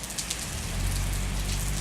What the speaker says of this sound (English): you see this rain right there?